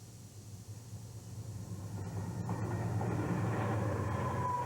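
A Santa Fe freight train on a detour to Los Angeles rolls past at speed, its rumble and wheel noise building from a distant hum to a loud, steady roar.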